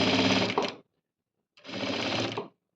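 A sewing machine stitches a double line along the armhole of a blouse in two close, even bursts of whirring separated by a silent pause, with no voices.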